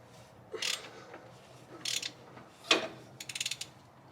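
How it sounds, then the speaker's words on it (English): An AMC 360 V8 engine on a stand is turned over by hand, giving four short, faint mechanical clicking and ratcheting bursts spaced about a second apart in a quiet shop. "let's turn this motor over and see how that cylinder looks"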